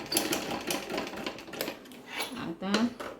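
Sewing machine stitching a blouse, quick bursts of mechanical rattling and clatter from the needle, close and fairly loud, with someone talking over it.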